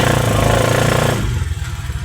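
A motorcycle engine revs loud and close, a rough buzzing roar that holds, then drops back toward a throbbing idle.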